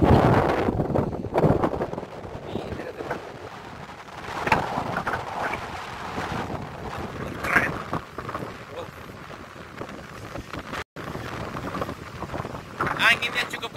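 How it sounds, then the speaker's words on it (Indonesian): Strong coastal wind gusts buffet the microphone in broad rumbling bursts, with surf noise underneath and a person talking over it throughout. "anginnya cukup kencang,"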